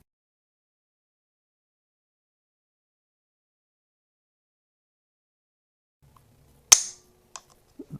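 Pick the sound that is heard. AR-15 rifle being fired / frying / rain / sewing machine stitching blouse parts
AR-15 rifle being fired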